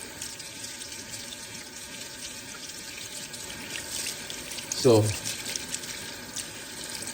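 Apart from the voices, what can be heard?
tap water running through rice to rinse it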